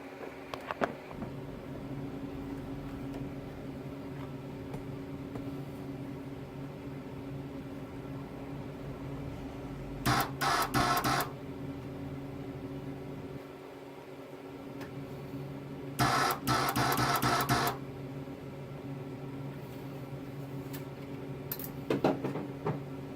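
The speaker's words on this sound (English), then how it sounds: "Let's get out the welder and see what we can do." A spot welder works on the core support of a 1979 Trans Am, firing a few loud buzzing bursts lasting about a second or two each over a steady low workshop hum.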